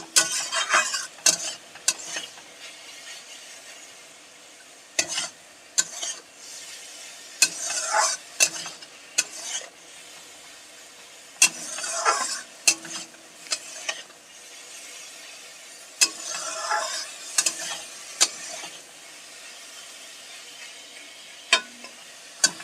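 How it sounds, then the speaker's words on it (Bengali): Green amaranth greens with chickpeas and sugar stirred in a pan, with irregular scraping and clinking of a spatula against metal over a faint sizzle, close and intermittent, with no talking. "চিনিটা দিয়ে একটু নাড়াচাড়া করে নামিয়ে নেব।"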